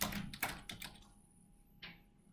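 A name goes in on a computer keyboard as a quick burst of close key clicks, then a pause before one last soft tap.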